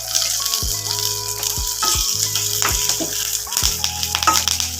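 Curry leaves and a small pinch of asafoetida powder frying in hot oil in a pan, giving a steady close sizzle with bursts of crackling and a few clinks of the utensil throughout.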